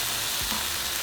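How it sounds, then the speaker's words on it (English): Steak frying in hot oil gives a steady, dense sizzle that stays loud and even for a brief moment with no voices. "we're going to grab our steak and we're going to fry it for 3 to 4 minutes on each side"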